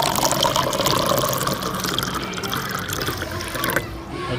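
Drinking water pours steadily into a container, a continuous watery splash and trickle running unbroken for several seconds, fairly loud and close.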